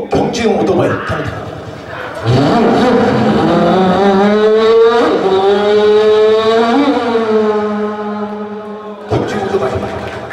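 At a pumba stage show in Osan, a voice mimics a racing motorcycle through an echoing microphone. The loud, sustained engine-like whine sweeps upward in pitch as though shifting through gears, and brief talk comes before and after it.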